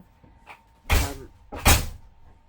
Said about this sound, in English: He always slams the door.